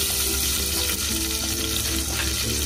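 Ghee heating in a kadhai, crackling with a dense, constant sizzle that stays loud and close the whole time, and no one speaking.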